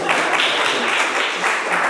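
A small round of applause from a conference audience after a talk on movements and products, a dense, steady patter of clapping filling the room for a couple of seconds.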